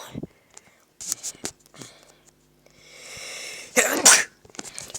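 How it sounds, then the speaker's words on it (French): A single sharp sneeze bursts out loudly near the end, preceded by scattered quiet movements and a soft breathy intake. "Je viens d'éternuer."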